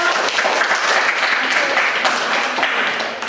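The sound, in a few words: classroom applause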